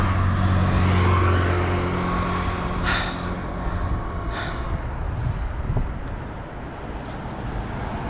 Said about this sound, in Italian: Arriva la macchina, ecco, mi metto qua su.